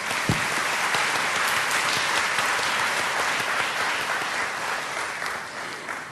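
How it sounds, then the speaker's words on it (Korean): Audience applause greeting a platinum-level business owner at a gathering in Toronto, a dense, steady clapping that fills the room for about six seconds and fades slightly toward the end. "박수 좀 부탁드려요"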